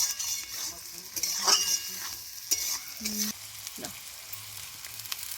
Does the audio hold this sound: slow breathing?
no